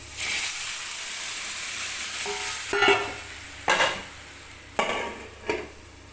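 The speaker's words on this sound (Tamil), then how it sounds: "இப்போ வந்து குழம்ப ஊற்றிக்கலாம் ஊற்றிட்டு அப்படியே டக்குன்னு மூடி வச்சிடலாம்" Hot oil sizzles loudly in a tempering, then tamarind gravy for fried okra is poured in with a few splashy bursts and clatters as the sizzling flares.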